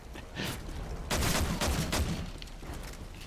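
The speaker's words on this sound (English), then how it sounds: "When I have a shotgun, I just shoot everywhere." Shotgun blasts in Call of Duty: Modern Warfare 3 during a close-quarters firefight, several loud booming shots in quick succession with game ambience between them.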